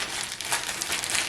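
A plastic bag dabbed with moisturizer is rubbed, giving close, brisk crinkling and rustling that comes in quick uneven bursts for a moment.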